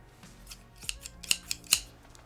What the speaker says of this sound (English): proper scissors for cutting hair